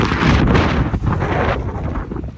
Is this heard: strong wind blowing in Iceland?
yes